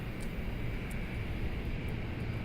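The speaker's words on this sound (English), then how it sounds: "many beautiful planes standing here, guys, with their engines just starting and everything." Airliner engines run steadily at Johannesburg airport in a flight simulator game, giving a loud, continuous jet roar with no pauses.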